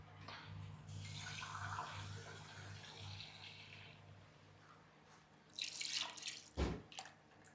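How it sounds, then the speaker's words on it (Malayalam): Water poured into a cooking pot while preparing a prawn dish in a home kitchen, a soft steady splashing stream that stops partway, followed by a few louder clunks and splashes close by. "ഇനി നമുക്കൊരു ലേശം വെള്ളം ചേർത്ത് കൊടുക്കാം"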